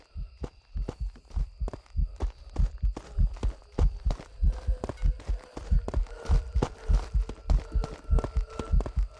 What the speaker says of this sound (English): If you hear your heartbeat